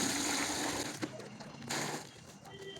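Water splashes and trickles into a container for mixing plaster of Paris to cast a Ganesh idol, a short close pour that fades, with faint background noise.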